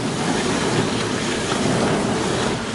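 A dishwasher running steadily, giving a continuous broadband wash of spraying water and motor hum at close range, with no voices and no pauses.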